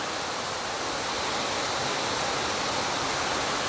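A small waterfall in Brazil, a constant broadband rush of falling water, loud and close and steady throughout with no voices.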